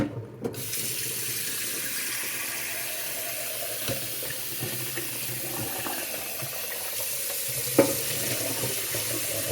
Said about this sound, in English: I'm going to rinse it in cold water and strain it